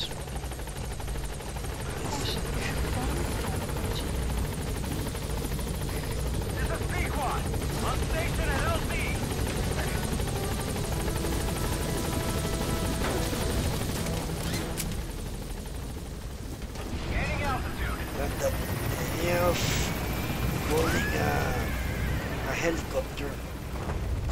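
A helicopter in Metal Gear Solid V arrives with a steady rotor roar that runs throughout, mixed with game sounds and occasional voices.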